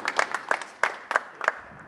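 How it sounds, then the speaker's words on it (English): A small group applauds tennis players after a coaching session, with a few sparse, uneven claps close by, fading within two seconds. "Big applause, please, for my players."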